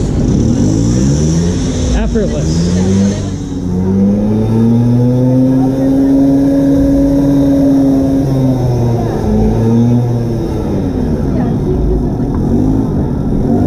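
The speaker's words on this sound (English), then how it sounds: "If possible, could you start the raffle bike?" A raffle motorcycle fires up and revs at a shop, its engine rising and falling in long sweeping pitch swells, loud and close, with someone speaking briefly over it.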